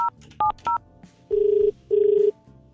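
Three short two-tone telephone beeps, then two longer steady tones with a pause between, the signal after a phone call is cut off.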